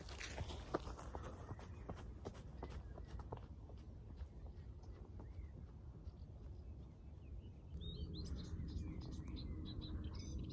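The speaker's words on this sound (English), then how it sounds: "there's bird song just the whole time" Birds chirp and sing in an old mixed natural forest in Slovenia, faint calls scattered over crunching footsteps through the undergrowth, with brighter, busier birdsong toward the end.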